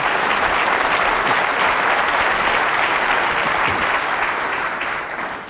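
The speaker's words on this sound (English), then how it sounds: "I think that's the longest round of applause I've ever heard for a plant." A large indoor crowd in a snooker arena at the World Championship claps in sustained, dense applause for several seconds, slowly thinning toward the end.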